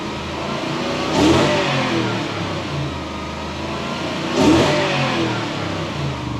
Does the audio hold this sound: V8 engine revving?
yes